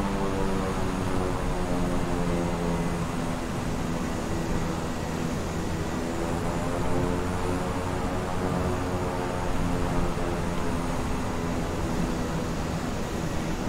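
A Beechcraft King Air 350i twin-engine turboprop in Microsoft Flight Simulator taxis with a steady, loud droning engine whine and airy hiss that holds evenly throughout, with no talking.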